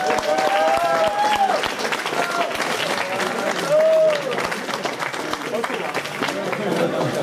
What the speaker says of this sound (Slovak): Poprosíme potlesk pre Rudolfa Michalovského.